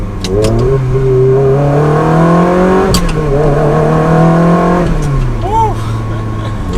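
Ferrari 360 Spider with a gated manual gearbox, engine rising and falling through gear changes with a rev-matching blip on a downshift, loud and close from the cabin, with a voice briefly heard over it.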